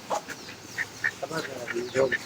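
Pet ducks in a backyard aviary quack in a string of short nasal calls, fairly close and loud, several birds overlapping irregularly over about two seconds.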